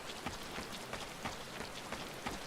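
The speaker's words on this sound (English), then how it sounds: "Oh, it's raining?" Rain falling in the video game Final Fantasy XIV, a steady wash of drops pattering on surfaces with occasional louder splats, even and continuous, with no voices over it.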